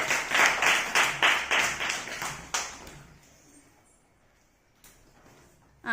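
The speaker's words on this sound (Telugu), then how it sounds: "Very good. క్లాప్స్ కొట్టండి అక్షయ్కి." Children clap together in a classroom during a maths activity, a loud run of rhythmic clapping that lasts about two and a half seconds and then gives way to near silence.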